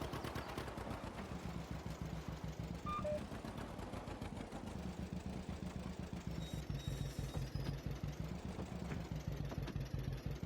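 A tractor engine in Farming Simulator 22 idles with a steady mid-pitched chug and rhythmic clatter, its pitch rising and falling gently over about ten seconds, with faint beeps in the background and no talk.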